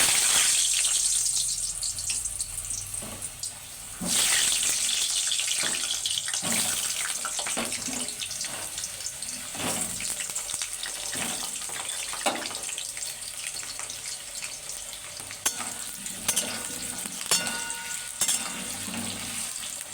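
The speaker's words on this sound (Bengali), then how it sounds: "এবার আমি মাংসের আলু কটা ভেজে নেব" Potatoes for a meat curry fry in hot oil, a continuous loud sizzle with bursts of spattering and occasional clinks and scrapes of stirring, close by and without speech.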